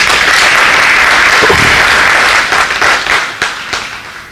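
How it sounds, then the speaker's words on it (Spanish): Congregation applause fills a church during a Spanish-language sermon, a dense, steady wash of clapping that holds loud for a couple of seconds, then thins and tapers into scattered claps. "Démosle un aplauso al Señor."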